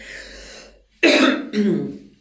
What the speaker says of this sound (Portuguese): Desculpa a tosse aí